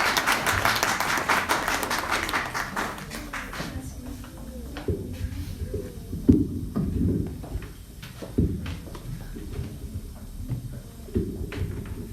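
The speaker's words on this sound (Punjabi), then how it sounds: "ਖੁਦਾ ਦੇ ਲਈ ਬਹੁਤ ਸਾਰੀਆਂ ਤਾਲੀਆਂ" A church congregation claps together, with dense applause in the first few seconds that thins into scattered, quieter knocks and shuffles.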